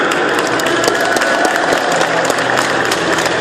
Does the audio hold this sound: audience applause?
yes